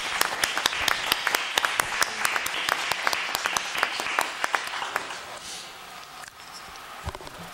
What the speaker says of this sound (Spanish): Y propongo que les aplaudan calurosamente.